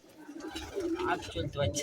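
A pair of pigeons coo in a rooftop loft, soft repeated calls heard beneath close, ongoing conversation.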